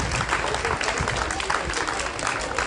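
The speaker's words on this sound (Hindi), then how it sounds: "तालियां रुकनी नहीं चाहिए।" A crowd at a girls' school Mother's Day celebration claps continuously, a dense, loud wash of applause that fills the space from start to finish.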